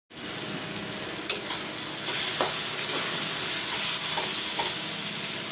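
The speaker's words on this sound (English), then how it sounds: "I will put in the salt also. Let the tomatoes fry a bit." Tomatoes with salt fry in a pan, a close, continuous sizzling hiss with a few spatula taps and scrapes as they are stirred, rising slightly after the first couple of seconds.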